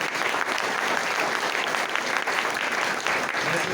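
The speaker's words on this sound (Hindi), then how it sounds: "एक बार जोरदार तालियां हो जाए" A festival audience breaks into loud, steady applause, a thick wash of many hands clapping together at even volume throughout.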